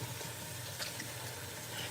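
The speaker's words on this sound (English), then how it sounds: "Okay, now I gotta wash my hands again," Hands being washed under a running kitchen faucet, a faint steady splash and trickle of water continuing throughout with no talking.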